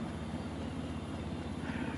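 A steady propeller drone with a throbbing, beating low hum comes from a yellow plane flying by in GTA Online, fairly faint and constant throughout.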